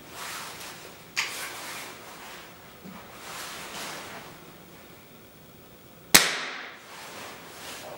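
A Beeman .22 air rifle fires twice, each shot a sharp, loud crack with a quick decay, the second stronger than the first, separated by about five seconds of quiet background hiss and no speech.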